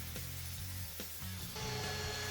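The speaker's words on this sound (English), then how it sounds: "I am now using my grinder here to form that radius." An angle grinder rounds off a pair of clamped 3/16 inch steel tabs for a direct heat smoker, a steady loud whine and grinding rasp with the pitch shifting as the disc bites and eases.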